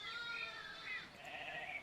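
A sheep bleats in a children's storytime, a short wavering cry that holds steady for under two seconds, fairly quiet and clear with no talking over it.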